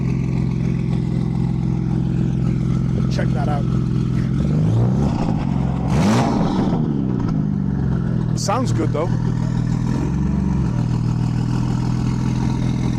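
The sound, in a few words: M2 car with stacked trick exhaust revving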